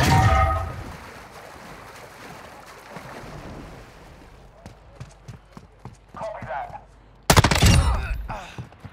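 Gunfire in the game DMZ: sharp, spaced shots crack out in an irregular series, then a louder burst near the end, heard over a dim background with some voices talking.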